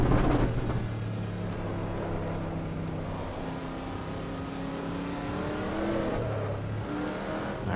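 A car engine in sixth gear in a racing video game drones with a steady, tonal note that barely climbs in pitch, briefly shifting and dipping near the end without talk.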